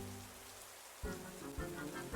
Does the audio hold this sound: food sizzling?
no